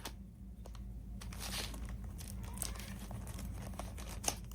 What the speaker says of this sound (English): I'm going to open up my charm squares here.